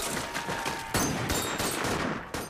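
Gunfire from The Pacific war TV series battle on Okinawa, a dense, loud volley of overlapping shots and cracks with sharp bursts near one second and just before the end.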